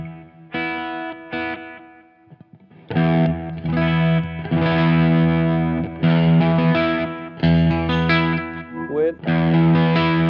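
An electric guitar runs through an Xotic effects pedal with a slightly Marshall-like driven tone, playing chords and lines with a brief gap near the start, close and fairly loud.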